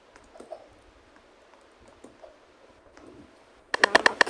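Burst of rapid clicking keystrokes on a poor-quality computer keyboard, loud and close, arriving suddenly after a stretch of faint low background noise with scattered soft taps.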